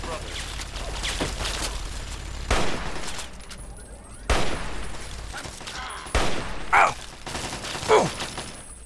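Bursts of gunfire from enemies in the video game Fallout 3, several loud separate volleys and thuds spaced across the stretch, with quieter mechanical clicks between them and players talking over the action.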